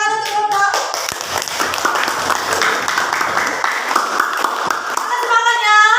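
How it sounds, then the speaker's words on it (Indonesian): A school class claps for the student groups after a lesson, a dense, steady applause from many hands that continues for several seconds, with children's voices and a teacher speaking faintly near the end. "Tepuk tangan untuk kelompok."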